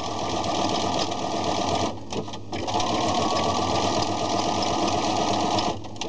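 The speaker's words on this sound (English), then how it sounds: "I really like sewing with knits because you can get so you just keep sewing." A sewing machine stitches knit fabric close by, running in a steady, continuous whir that breaks off briefly around the two-second mark and then resumes.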